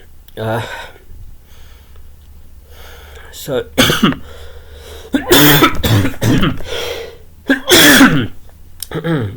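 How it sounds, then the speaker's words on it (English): Several sharp, harsh coughs burst out in separate fits between stretches of nearby talking, the loudest bouts landing close together toward the end. "this cough that I have doesn't seem so bad, but because it's so persistent"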